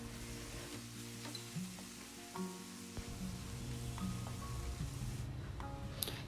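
Crushed ginger, garlic and green chili frying in ghee and coconut oil give a steady close crackling sizzle, with a few light utensil taps and a brief sharp clink near the end, and no voices.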